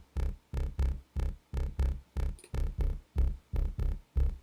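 A bit-crushed, gritty, distorted synth bass pulses in steady, evenly spaced hits, about two per second, loud and upfront with a rough, crunchy edge.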